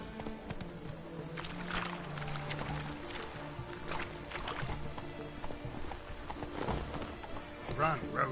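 Roach the horse galloping in The Witcher 3, with rhythmic clip-clop hoofbeats running steadily under game music and ambient sound, a voice speaking over it.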